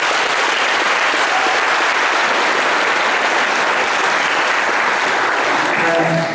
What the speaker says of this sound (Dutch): nogmaals een overweldigend applaus